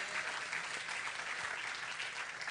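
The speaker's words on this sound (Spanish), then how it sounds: "Dale ese aplauso más fuerte al Señor" A church congregation claps together in steady, sustained applause, a dense rain of hands that sounds somewhat distant and fills the space without any clear voices on top.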